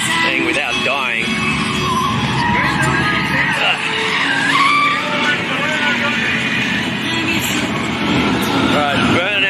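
A car doing burnouts at a Powercruise event in Sydney, tires screeching and skidding in long wavering squeals over a loud revving engine, close by, with crowd voices and talk mixed in.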